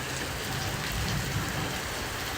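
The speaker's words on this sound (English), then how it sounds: "And it's raining hard, but it's not a downpour." Heavy rain falls steadily during a Miami thunderstorm, a dense, even hiss of drops pattering on surfaces close by, with no voices.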